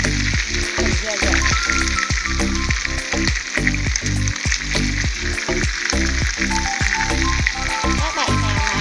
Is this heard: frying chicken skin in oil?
yes